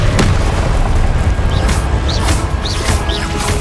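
Repeated Confringo blasting-spell explosions in Hogwarts Legacy, a dense loud battle bed with several sharp booming bursts spaced about every half second to second, layered over continuous rumbling combat noise.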